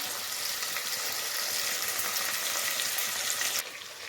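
Dried turkey berries frying in oil in a pan for Tamil vatha kuzhambu, a steady close sizzle that holds evenly for several seconds before easing slightly near the end.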